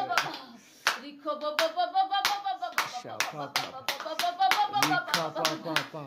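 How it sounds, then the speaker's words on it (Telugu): A congregation claps along during a fasting and prayer revival meeting, sharp hand claps ringing out in a quick, uneven rhythm beneath a loud, sustained voice that talks or sings over them throughout. "చప్పట్లు కొట్టి దేవుని మహిమపరచు"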